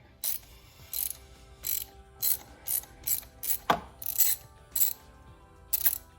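A ratchet clicks in short, irregular bursts while loosening a spark plug on a Mazda CX-5, close and fairly quiet, with one sharper metallic knock partway through.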